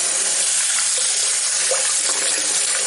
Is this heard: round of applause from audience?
no